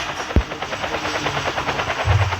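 A video game helicopter's rotor thumps in a steady, fast pulse at close range, with a sharp bang near the start and a low rumble rising near the end. No one speaks over it.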